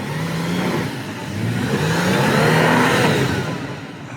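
Car engine revving hard as a vehicle climbs a steep hill, a loud, sustained, rising and falling drone with audible gear whine, close and continuous throughout, with no talking.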